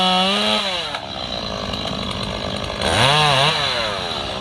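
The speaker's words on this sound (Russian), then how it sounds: "Пила снова в деле." A chainsaw runs loud and close throughout, its engine rising to a higher rev twice, at the start and again near the end, with no talk over it.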